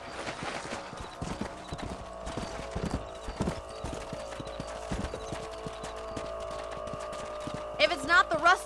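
Horse hooves clip-clop in a steady riding rhythm in the Red Dead Redemption video game on PS3, close and even, with a brief horse whinny or snort near the end.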